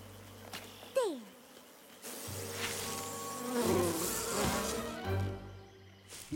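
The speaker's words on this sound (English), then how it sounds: "Now the other bayou creatures can get to the water without the bees feeling threatened." Cartoon bees buzz around their hive in a bayou, a steady insect drone rising and swelling over a musical score with a few brief swoops, fairly loud throughout.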